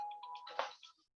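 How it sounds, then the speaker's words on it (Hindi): A mobile phone ringtone plays briefly during an online physics class, a short melodic run of bright tones lasting about a second, fairly quiet and clear with no talk over it. "जरूर तुमने में से किसी बच्चे का फोन आया होगा"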